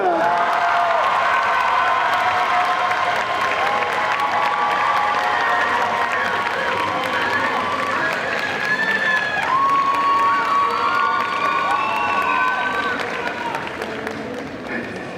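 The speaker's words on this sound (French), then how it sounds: "je vous demande un tonnerre d'applaudissements" A crowd at a Belgian cosplay competition at a convention gives loud, sustained applause mixed with cheering and high shouts, a continuous roar that tapers slightly at the end.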